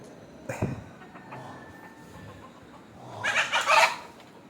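Native country chickens cluck and squawk nearby, an early sharp call followed by quieter clucking and a louder burst of hen calls near the end.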